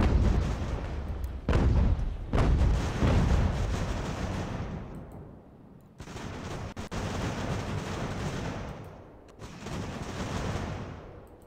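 A 6-pounder cannon firing in Ultimate General: American Revolution at Fort Frederick: several loud booming shots, each trailing into a long rumbling decay, close and heavy, with a brief gap between volleys and no speech.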